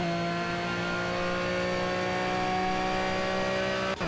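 An Aston Martin Vantage V12 GT3 racing car at Monza in the Project CARS game, its V12 engine holding a loud, steady high-rpm drone near top speed in sixth gear, with sustained harmonic whine throughout.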